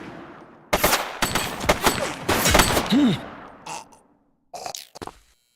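Gunfire in a video game shootout during a police operation: several rapid bursts and sharp shots across the first few seconds, loud and close, then a pause and a couple of shorter bursts near the end.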